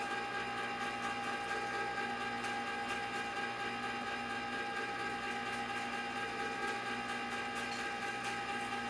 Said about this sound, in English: they get mixed in by the action of the Cuisinart